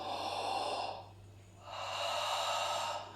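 Yogic ujjayi breathing: a long breathy exhale with an open ha sound, a short pause, then another loud throaty breath close to the ear.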